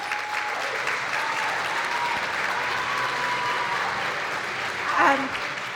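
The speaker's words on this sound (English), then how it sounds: "I would like a round of applause for every single person in this room who teaches." An audience at a Lake County Teacher of the Year ceremony applauds for teachers in the room, a sustained even wash of clapping throughout with a brief louder swell near the end.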